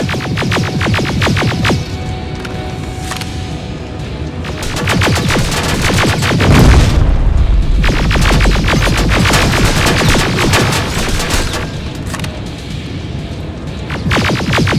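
Rapid weapon fire in a Terminator video game battle, a dense, loud, almost continuous clatter of repeated shots with booming impacts and a chaotic roar in the middle, no pause across the whole stretch.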